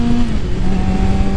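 A car accelerating on a race track, a loud, steady engine roar climbing in pitch over a brief stretch, close and unbroken, with no voices.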